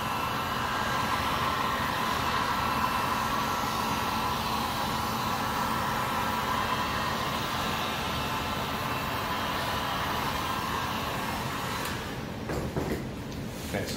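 Heat gun blowing steadily on ghost prop material for a Halloween decoration, a constant loud close airy roar that holds unchanged for most of the clip before cutting out near the end into faint handling noise.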